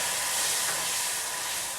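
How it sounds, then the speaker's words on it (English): A steady, broad hiss of hot water sizzling in a hot pan while cooking chicken pilau rice, fairly loud and continuous with no pauses. "You can hear that sizzle."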